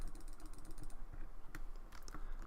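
Rapid mouse and keyboard clicking during a session of the city-building game Cities: Skylines, a steady run of close, light clicks over low background game ambience, with a few sharper clicks standing out near the end.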